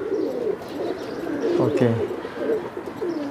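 Fancy pigeons, including Lall Dum, Kaldum and Kagji Makwe breeds, coo in a loft in Vikroli, Mumbai: soft throaty rolling coos repeat close by over a few seconds, with a voice speaking briefly over them.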